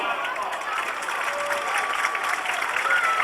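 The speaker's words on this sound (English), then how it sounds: "Please give him a loud applause." Audience applause follows the introduction of a company vice president of regional operations at a facility gathering, a steady, dense wash of many hands clapping close by, with a few whoops and voices mixed in throughout.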